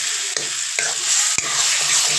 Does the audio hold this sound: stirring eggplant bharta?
yes